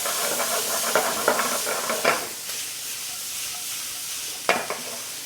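Onions, powdered ginger and sliced garlic sizzle steadily in hot oil, a soft continuous frying hiss broken by a few sharp stirring scrapes and tosses.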